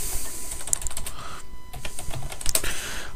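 Quick, irregular clicks of typing on a computer keyboard, close and fairly quiet, with a brief pause in the middle.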